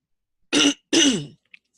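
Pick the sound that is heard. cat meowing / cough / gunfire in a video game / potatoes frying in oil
cough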